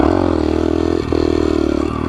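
A motorcycle engine revs steadily and loudly, with a brief dip near the middle as a gear shift breaks the drone before the revving picks up again; no voices.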